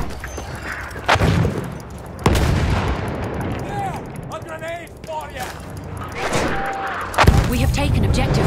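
Battlefield 1 gunfire crackles in a large-scale multiplayer battle, with sharp rifle cracks and bursts scattered over several seconds, a few loud close shots among distant pops and ambient combat noise, while a player talks intermittently.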